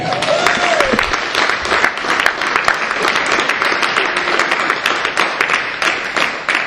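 Church congregation applauding the Lord at a French-language service, loud close clapping from many hands that runs continuously, with a brief faint tone or voice under the start.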